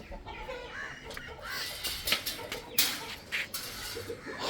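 Chickens and roosters cluck and call on a poultry farm, a busy overlapping flock with sharper squawks standing out over steady barnyard noise; no one speaks.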